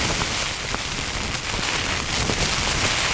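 Steady rain drums on a tent during a storm outdoors, a dense, close, continuous hiss broken by scattered sharper drop taps, holding an even loudness throughout with no voices.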